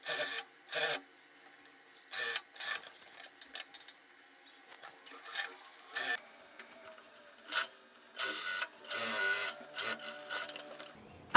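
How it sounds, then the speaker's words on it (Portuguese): A sewing machine topstitches a fabric blouse in short, separate bursts of rapid whirring stitching, close and clear, with quiet pauses between runs and no talk. "Então eu vou começar o pesponto na parte de baixo e depois eu faço mais 2 pespontos"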